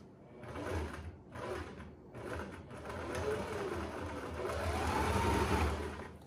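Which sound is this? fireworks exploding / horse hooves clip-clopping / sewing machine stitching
sewing machine stitching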